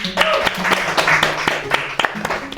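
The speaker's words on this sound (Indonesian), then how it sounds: "tepuk tangan dong" A studio audience claps through a talk show segment, a brisk scatter of hand claps close by with voices talking over it.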